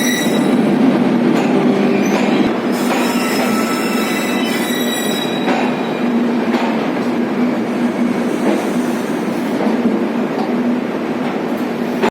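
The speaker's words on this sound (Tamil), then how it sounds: "நம்ம மெமுவும் ஸ்டார்ட் ஆகிடுச்சு." A MEMU electric train pulling away from Chennai Central MGR station toward Arakkonam, a steady loud rumble of wagons with wheel squeal and rail clatter building throughout, heard from inside the carriage.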